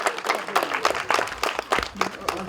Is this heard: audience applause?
yes